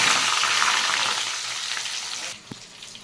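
Potatoes and chopped vegetables frying in ghee with dried chillies, whole cumin and bay leaves, a loud close sizzle that gradually fades, ending in a single soft knock.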